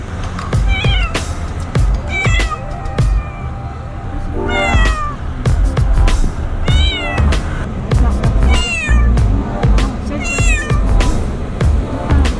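Several cats meow repeatedly and loudly at a cattery, a cat hotel, with overlapping cries close by, some drawn out into wails, over a dense background of movement and noise.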